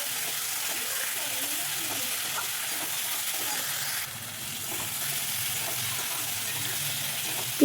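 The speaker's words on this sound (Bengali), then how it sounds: "বেটে রাখা মশলা এটাকে দিয়ে একটু ভালো করে কষিয়ে নেব" Ground spice paste frying in hot oil in a pan for a Bengali fish curry with potato and cauliflower, a continuous soft sizzle with faint stirring throughout and a sharp knock at the very end.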